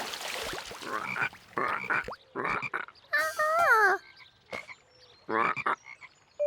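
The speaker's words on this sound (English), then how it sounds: "These loud frogs probably scared the tadpoles away." Loud frog croaks in irregular bursts, some rapid and rattling, others warbling and rising, close by with short pauses between calls.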